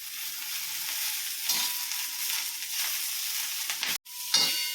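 Green chillies and coriander sautéing on a hot griddle, a steady close sizzle with stirring scrapes, a brief cut near the end, then the frying resumes.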